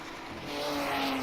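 A race car at the Riverside circuit in a NASCAR-style racing game runs right over the camera, its engine tone rising and swelling louder and nearer over about a second.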